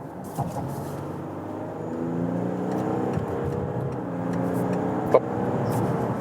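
A 2019 Volkswagen Touareg III R-Line in S shifting mode accelerates on a straight motorway from 60 to 100, its engine note rising steadily under road and wind noise from inside the cabin.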